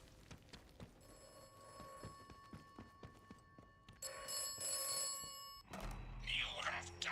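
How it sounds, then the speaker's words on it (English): A telephone rings in the video game Atomfall, a repeated electronic bell tone with faint footsteps and clicks, growing louder midway before a deeper rumble and hiss take over. "There's a telephone ringing."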